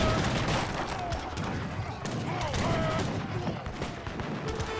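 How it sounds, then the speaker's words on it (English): Mortars pound buildings in an Age of Empires III treaty tournament match: dense, overlapping booms and crackling blasts roll on continuously for a few seconds, with a voice faintly audible underneath. "Mortar's picking off these buildings."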